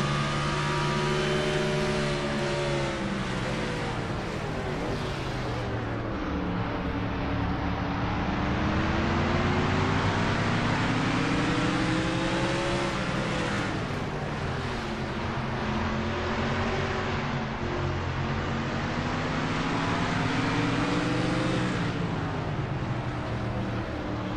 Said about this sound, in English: See how he drives his truck here, 54 miles an hour through turn number 4